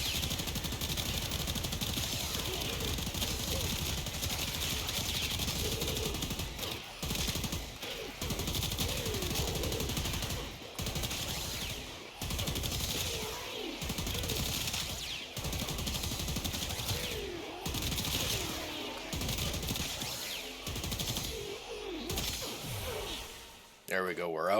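Rapid bursts of automatic gunfire from the video game Warframe fill the scene as a steady, dense rattle with brief pauses, with a voice talking over it throughout.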